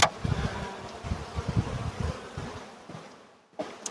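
A close, continuous droning buzz of many honey bees at a hive, wavering in pitch and loudness, with a brief lull before the hum swells again.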